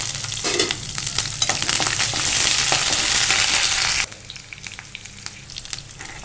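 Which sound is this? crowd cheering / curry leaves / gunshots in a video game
curry leaves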